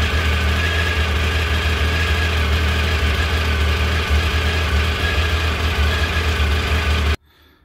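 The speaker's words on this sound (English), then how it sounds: "Now let's start the bike." A Triumph Tiger 955i motorcycle engine runs at a steady, loud idle close by, with a continuous throb that cuts off abruptly near the end.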